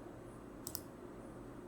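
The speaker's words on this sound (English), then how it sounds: "And then I will click on next 100." A computer mouse clicked twice in quick succession, faint and sharp, over a quiet background hum.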